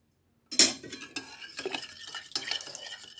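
A utensil stirs eggs and kefir in a bowl for grated-apple pancake batter. It begins with a sharp clink, then scrapes and taps in an uneven rhythm, close and fairly quiet.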